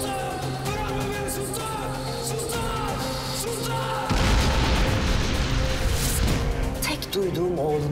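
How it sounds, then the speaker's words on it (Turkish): Heavy rumbling booms and bursts erupt midway and continue loudly over dramatic music and voices, like a vehicle exploding close by. "Bir de arabanın patlama sesi tabii"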